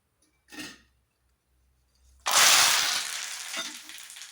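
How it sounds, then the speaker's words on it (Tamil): Boondi, drops of gram-flour batter for homemade poondi mixture, frying in hot oil: after a brief soft rustle and near-silence, a loud sustained sizzle erupts and gradually eases, with no talking. "எண்ணெயில் போட்டு கொஞ்சம் ஃப்ரை ஆனோடனே நம்ம எடுத்து போட்டுக்கலாம்"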